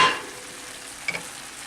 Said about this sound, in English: I'm gonna add some onion. Got green onion.